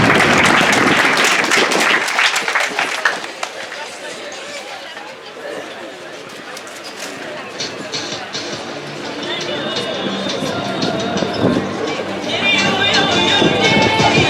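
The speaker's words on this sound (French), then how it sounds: "Il faut bien l'applaudir quand même." An audience at a vin d'honneur reception claps in a dense burst of applause that fades into crowd chatter and murmuring voices.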